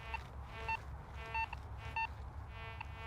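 Repeated electronic beeps from a Nautilus metal detector signalling big iron ring out in short, steady tones over a low background rumble, a few pulses spaced about half a second apart.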